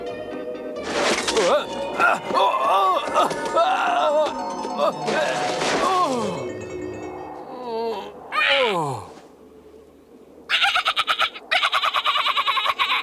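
Chickens cluck and squawk loudly in bursts, with a rising, laughing quality, followed by a sharper high-pitched cackle near the end.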